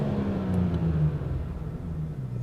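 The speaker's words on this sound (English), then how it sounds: "You can hear that little popcorn right now in the exhaust." A BMW 340i xDrive sedan idles just after its engine starts, a low, steady exhaust rumble with a couple of faint, quick crackling pops early on.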